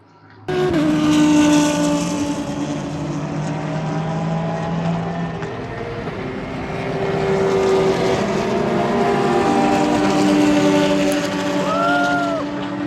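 Race cars at the Hankook 24H Dubai endurance race roar past close by, with engine drones rising and falling as several cars sweep through over about thirteen seconds.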